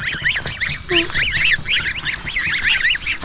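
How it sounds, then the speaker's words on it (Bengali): Goose goslings call in a rapid run of short, high, rising peeps and honks, several birds close by in a rural spot near the Sundarbans in Paikgacha, Khulna, with faint background noise. "রাজা হাঁসের বাচ্চা"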